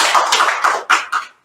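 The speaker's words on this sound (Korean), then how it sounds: "다 함께 박수로 환영하시겠습니다." A church congregation claps at a Sunday service to welcome a newcomer, a close burst of applause that surges in a few uneven waves before stopping abruptly.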